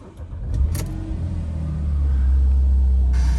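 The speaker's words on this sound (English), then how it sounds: "The engine purrs into life there beautifully and settles down at 1000 RPM to that smooth tick over." Porsche 911 997.2 engine cranking and firing up after a short clatter, then settling into a steady, loud, low idle rumble close by.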